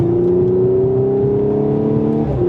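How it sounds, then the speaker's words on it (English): A 2015 Audi S5 B8.5 pulling away from a stop in manual mode, a loud, close engine note rising steadily in pitch, with a slight rough edge near the end. "Oh, the crackles of that exhaust is amazing."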